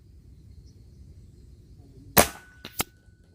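Kral Puncher Nemesis .22/.25 PCP air rifle fires one sharp, loud crack, followed moments later by a second short snap of the pellet striking, over a quiet outdoor background.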